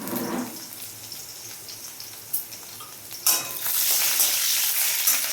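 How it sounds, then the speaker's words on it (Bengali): Chopped capsicum and green chilli fry in a pan with a steady sizzle, broken by a couple of sharp clinks of a utensil, then a louder burst of hissing as the pan is stirred. No talk. "ক্যাপসিকামটা একটু ভালো করে ভাজা ভাজা করে নেবো।"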